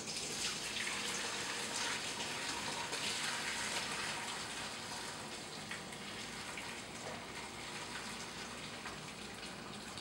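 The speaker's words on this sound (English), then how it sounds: "I'm just going to go ahead and pour all of my chicken broth into it." Chicken broth pours through a strainer into a bowl, a continuous splashing gush of liquid that stays fairly loud and steady throughout.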